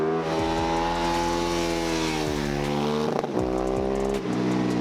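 A Honda Grom motorcycle fitted with a slip-on exhaust and a Rottweiler intake revs up and down repeatedly, loud and close, with a throaty intake note, no voices.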